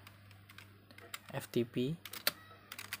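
Fingers tap a command into a laptop keyboard at a command prompt, a quick run of light, close key clicks mixed with a person speaking.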